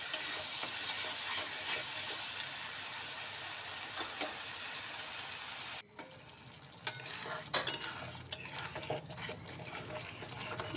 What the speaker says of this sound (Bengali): এর সঙ্গে খুব ভালো করে কষিয়ে নেব।